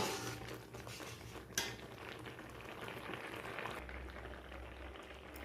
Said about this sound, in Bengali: চিনি দেওয়ার পর একটু এইভাবে নাড়াচাড়া করে দিতে হবে